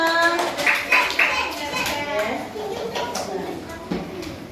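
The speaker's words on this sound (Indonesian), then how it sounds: "Tepuk tangan buat Natania." Children in a classroom clap their hands in a few short bursts, with a teacher's voice and kids' chatter running over and around the claps nearby.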